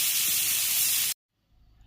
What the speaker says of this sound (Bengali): কড়াইয়ের মধ্যে তেল দিয়ে দিয়েছি এবার ধুয়ে রাখা ছাতুগুলো এর মধ্যে দিয়ে দেবো